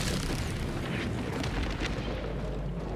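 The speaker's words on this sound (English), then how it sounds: "The hell bomb, yes, explodes." A hell bomb detonates in Helldivers 2, a dense, sustained roaring blast with deep rumble and crackling debris filling the whole moment at steady loudness, no voices over it.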